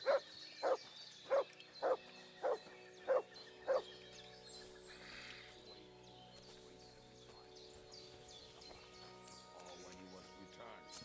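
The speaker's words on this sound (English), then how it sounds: "Good dog, Mutz." A dog in Kingdom Come: Deliverance II gives seven evenly spaced, sharp barks up close, then falls quiet under a low ambient game background.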